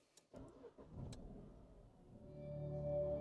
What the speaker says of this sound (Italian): accendo l'auto